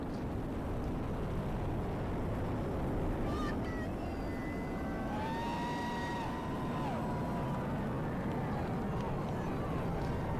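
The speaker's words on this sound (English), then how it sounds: "All 27 engines powerfully lifting GOES U on its trajectory and ascent into space" A SpaceX Falcon Heavy rocket lifts off carrying the GOES-U weather satellite, its 27 engines producing a loud, continuous broadband roar with faint tonal whines drifting through it and a voice partly audible beneath.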